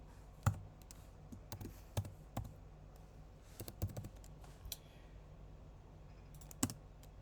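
Numbers tapped out on a computer keyboard in short clusters of crisp key clicks, close and fairly quiet against a faint room hum, with pauses between bursts and no talking.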